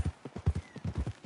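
Horse hooves in Red Dead Redemption 2 clip-clop in a quick, even trotting rhythm, close and distinct, with about a dozen hoof strikes and no other sound.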